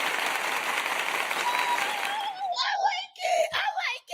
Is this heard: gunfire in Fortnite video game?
no